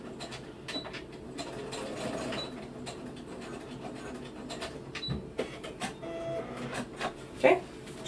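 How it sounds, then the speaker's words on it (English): A sewing machine stitches straight across a strip of elastic on a small cloth bummie, its mechanical whir running steadily with faint clicks and short bursts as the needle works. "we're going to go sew straight across it"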